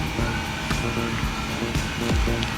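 A small 12-volt fan powered from a solar battery runs with a continuous, even whir and broadband airflow hiss, close and steady throughout with no speech.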